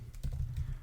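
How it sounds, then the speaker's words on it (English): Fingers tap quickly on a computer keyboard in a short, steady run of close clicking keystrokes. "inside of this method we are going to type something"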